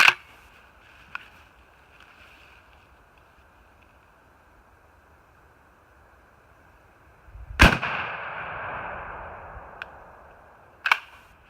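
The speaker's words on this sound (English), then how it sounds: "now I'm going to shoot at this with the Kix" Kicks High Flyer BB gun shots fired at cardboard, two sharp close cracks spaced a few seconds apart, the first followed by a lingering hiss, alone with no talk.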